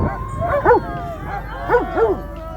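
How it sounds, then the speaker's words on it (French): Dogs bark and yip in short repeated bursts, recorded as sound effects for an audio drama production. A faint voice runs underneath. "des chiens qui nous courent dessus"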